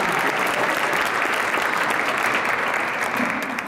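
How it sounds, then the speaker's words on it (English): Sustained, dense applause from a large audience at an Arthritis Foundation benefit event, loud and steady for several seconds with no voices over it. "Please give a warm round of applause to Justin and Krista, please."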